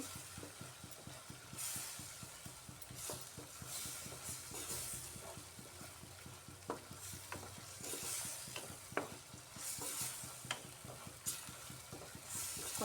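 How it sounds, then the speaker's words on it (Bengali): Ground spice masala paste frying in a pan for a vegetarian potol paneer dish, a low continuous sizzle with repeated spatula scrapes and occasional clinks, quiet and close, with no voices. "এই গুঁড়া মশলাটা দিয়ে এবার কিছুক্ষণ কষিয়ে নেব"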